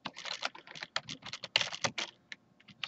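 Rapid typing on a computer keyboard, a close run of crisp key clicks in uneven bursts that slow near the end, with no talking.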